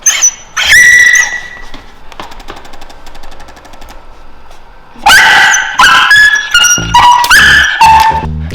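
A Samoyed puppy screams loudly as its head is turned during an animal chiropractic adjustment, giving sharp, high-pitched yelps and cries in bursts, then a quieter stretch before a second loud run of yelps.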